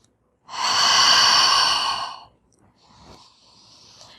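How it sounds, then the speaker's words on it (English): One long, loud exhale through the nose and mouth during a yoga stretch, then a softer, airy breath after a short pause. The breathing is close and there is no talk. "Exhaling up."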